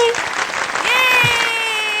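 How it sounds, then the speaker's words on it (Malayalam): Audience applause at a television show, a dense wash of clapping under a held musical tone and some voice. "എല്ലാവരും ഒന്ന് കൈയടിച്ചേ"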